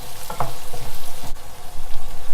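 Tomato cooking on high heat in a pan, a steady loud sizzle and frying hiss with some stirring movement throughout.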